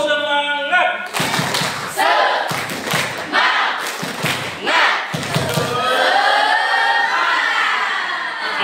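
A group of management students performs a rhythmic spirit clap, with loud unison claps in a pattern of bursts and pauses and collective shouts, ending in sustained cheering and voices.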